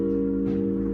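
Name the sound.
piano playing drop 2 diminished seventh chord voicing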